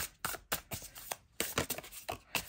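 Tarot cards shuffled by hand in quick bursts of riffling and sliding, close and fairly quiet, with short pauses between passes.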